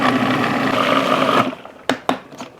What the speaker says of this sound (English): And then into a food processor we go